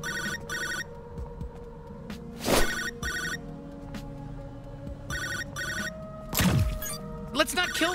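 Telephone ringing inside a Rick and Morty video game, with two bursts of trilling electronic rings, the first near the start and a second around the five-second mark, over game background sounds and a few loud swooshing hits.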